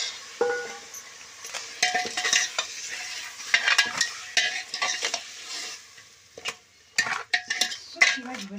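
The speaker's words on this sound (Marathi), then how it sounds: "मटण टाकल्यानंतर आजीने सर्व व्यवस्थितपणे साहित्य मिक्स करून घेतलेलं आहे त्याच्यामध्ये" Grandma stirring mutton with garlic, onion, coriander masala and salt in a pan, close by: repeated scraping and clinking strokes of the spoon against metal over a soft sizzle, with short pauses between stirs.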